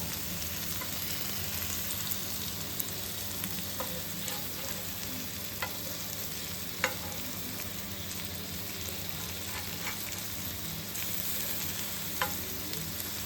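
Koramenu fish frying in oil in a pan, a steady dense sizzle throughout with a few sharp clicks as pieces are turned over; no talking.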